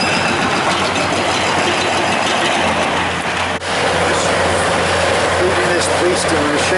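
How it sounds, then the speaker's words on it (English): A heavy demolition machine crushes concrete and bricks, its loud diesel engine droning steadily with dense grinding and crunching noise throughout, one brief dip midway, and a voice talking over it. "Beast of a machine pumping out all the bricks to dust."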